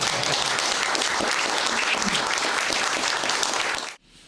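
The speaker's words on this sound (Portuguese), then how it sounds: "Forte aplauso para Turca Trás." Loud, steady applause from an audience at a live event fills nearly four seconds, then cuts off abruptly, leaving a brief quiet tail.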